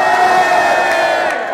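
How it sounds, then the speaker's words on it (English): A crowd at a drag show roars a loud, sustained cheer after a "hip hip" call, voices blending into a continuous whooping wall of sound that holds steady and fades slightly near the end. "Let's give one more cheer to them. Hip hip!"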